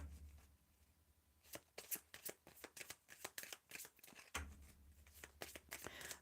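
Playing cards shuffled during a psychic card reading, a quick series of sharp riffling and snapping bursts at close range after a quiet start, with no talking.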